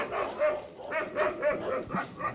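A dog at the KSPCA animal shelter barks repeatedly in a steady rhythm of short, loud, close barks, about five or six of them in a row.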